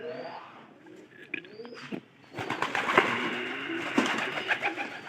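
Pigeons coo in a loft with chicks about, soft repeated throaty calls rising and falling, with brief wing flaps and chirps among them, moderately close.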